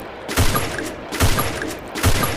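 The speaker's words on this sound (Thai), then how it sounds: "เรายิงแล้วก็สับนะครับยิงแล้วก็สับอย่างนี้นะครับ" Kar98 bolt-action rifle in a video game firing between bolt cycles: three loud, sharp shots at a steady, evenly spaced rhythm, with no talking.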